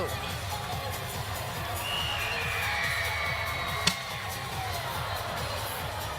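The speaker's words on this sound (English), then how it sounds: "if you hear a little bit of extra crowd noise right now, well, we've got the Wildcat out here with the t-shirt gun" A volleyball arena crowd at a women's college match between Kentucky and Texas A&M keeps up a steady roar of cheering and chatter while the mascot fires a t-shirt gun, with a brief sharp pop near the middle.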